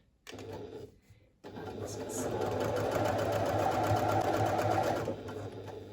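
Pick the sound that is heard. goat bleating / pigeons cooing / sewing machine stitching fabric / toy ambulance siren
sewing machine stitching fabric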